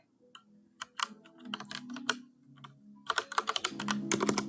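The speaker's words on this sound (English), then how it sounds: "So I'm typing it down." Keys on a computer keyboard clack in irregular bursts, sparse at first and then quicker, with a faint voice in the background.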